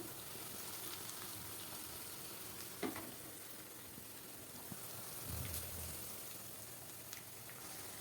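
Curry leaves and eggplant fry in oil for an Andhra-style stuffed brinjal curry, a faint, even crackling sizzle with a few light clicks and a brief stirring scrape.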